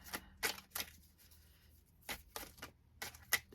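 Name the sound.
shuffling cards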